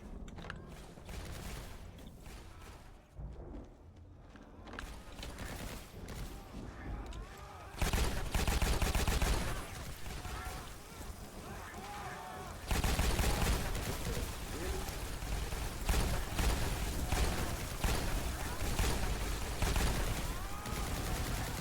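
Repeated gunfire from the shooter video game Revelations 2012, bursts of shots and loud blasts running through the stretch, growing denser and louder partway in, with someone talking over the game.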